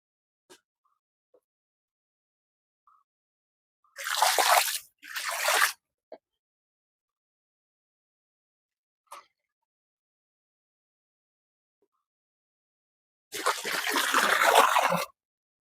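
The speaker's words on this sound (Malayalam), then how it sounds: "ഇനി നമുക്കത് ഇതിലേക്ക് അങ്ങോട്ട് ഒഴിച്ചു കൊടുത്താൽ മതി" Clear slaked lime water is poured into a container in two separate bursts of rushing liquid, each lasting one to two seconds, with near silence between them and a few faint small knocks.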